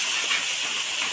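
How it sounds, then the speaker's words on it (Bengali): Taro leaves drop into a hot pan of fried ingredients and set off a loud, continuous hiss of sizzling that stays steady through the short burst. "সব উপকরণ ভেজে নিয়ে এবারে কচুর শাকটা দিয়ে দেবো"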